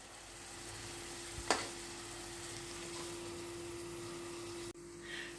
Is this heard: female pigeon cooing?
no